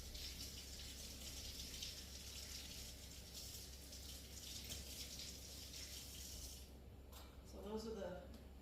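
Peppers rinsed under a running kitchen tap, a steady, soft rush of water for several seconds that stops near the end, followed by a brief voice.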